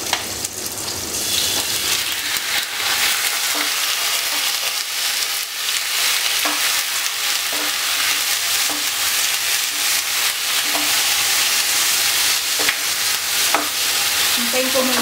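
Chicken for tinola sautés in a pan, a loud, continuous sizzle with occasional stirring scrapes running close and unbroken throughout.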